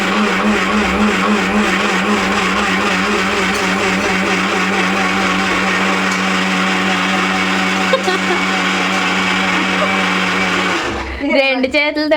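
A wet grinder churns soaked urad dal into batter, producing a loud, steady droning whir with a constant hum that runs unbroken for most of the stretch before cutting out near the end, followed by brief clatter.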